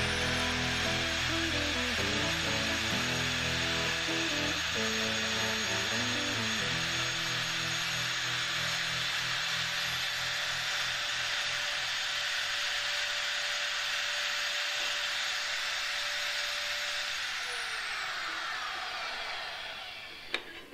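Pipe threading machine running in reverse to back the die off a threaded pipe, a loud continuous mechanical whine and grinding drone that fades slightly toward the end.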